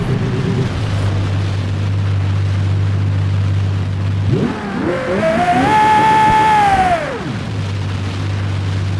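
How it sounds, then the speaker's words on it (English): A Ferrari 812 in the BeamNG Drive racing game holds a loud, steady engine drone, then revs hard with a rising, high-pitched wail that holds before dropping back to the steady tone, with no voices. "Ferrari 812."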